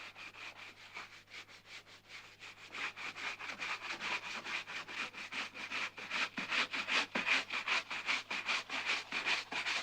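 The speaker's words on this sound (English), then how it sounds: "it's brushed down, and it's coated with plaster Paris to remove oil stains and all the rest of it, and polish the lead up" A brush works over the lead came of a stained glass window coated with plaster of Paris, polishing it in quick, rhythmic scrubbing strokes that grow steadily louder and closer, with no talking.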